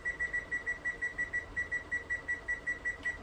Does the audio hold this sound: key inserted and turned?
no